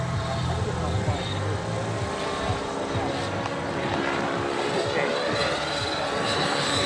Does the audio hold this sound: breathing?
no